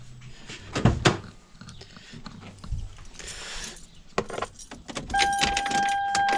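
Keys jangle briefly up close, followed by scattered clicks and handling noises as the ignition of a Toyota Tacoma is turned on, ending with a steady electronic tone.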